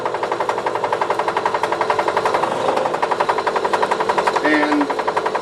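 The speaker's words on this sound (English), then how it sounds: "So we're just going to drill a pilot hole." A drill press drills a pilot hole in an adapter plate with a fast, regular chattering pulse, loud and close, running steadily without speech.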